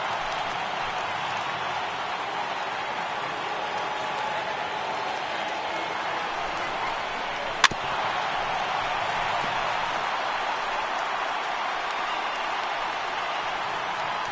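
Baseball crowd on its feet in an afternoon game at Pittsburgh, steady broad applause and crowd noise held at an even level throughout, with a single sharp click partway through.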